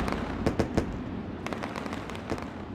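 Fireworks crackle and pop in the iRacing racing game, sharp bursts in irregular clusters over a steady low rumble.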